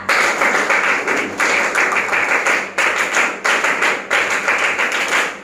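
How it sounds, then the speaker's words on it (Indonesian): A standing classroom of pupils performing the Indonesian scout clap, tepuk pramuka, loud crisp group claps in the fixed patterned rhythm, bursts of rapid claps separated by short pauses, repeated several times. "Tepuk pramuka dua kali."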